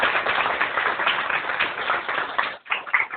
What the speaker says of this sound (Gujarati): એમના માટે તાળીઓ પાડો.